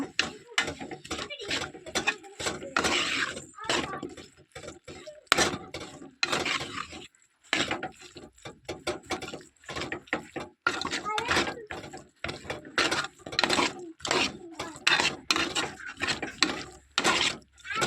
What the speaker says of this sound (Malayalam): ചിക്കൻ ചേർക്കുക. നന്നായി ഇളക്കുക.